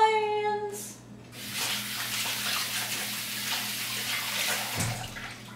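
Tap water running into a kitchen sink during hand washing: a steady close splashing rush that starts after a brief electronic tone and continues under faint background noise.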